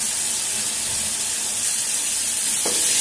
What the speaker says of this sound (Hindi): अब हम इस मसाले को जब तक पकाएंगे जब तक साइड में तेल दिखाई देने न